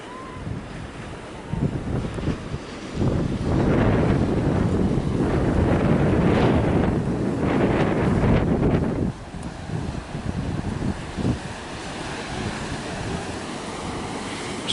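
Ocean surf rolls onto the beach at Perros-Guirec in a steady, loud wash, swelling in the middle, with heavy wind buffeting the microphone throughout.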